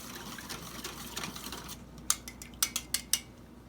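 Pancake batter with melted butter is stirred in a bowl, a soft scraping swirl followed by several sharp clinks of a utensil tapping the bowl's rim, close and fairly quiet.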